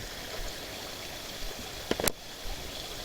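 Shallow water flows steadily over rocks at a mountain river's headwaters on a volcano slope in the dry season, a soft continuous trickle with a couple of brief nearby knocks.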